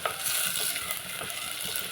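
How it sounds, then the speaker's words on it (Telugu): Onions frying in a pan for a goat head curry, giving a steady close sizzle and crackle with light stirring throughout, no voices. "ఆనియన్స్ శుభ్రంగా బాగా వేపుకుందామండి. బాగా వేగిపోవాలి, అప్పుడే బాగుంటుంది."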